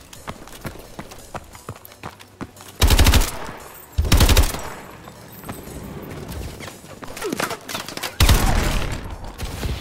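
Bursts of automatic gunfire from the video game Call of Duty: Advanced Warfare, three loud rapid volleys spaced a few seconds apart, with quieter game sounds between them.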